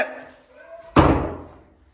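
A house door slams shut with one loud, heavy bang during a heated family argument, after some quieter talk and shuffling noises.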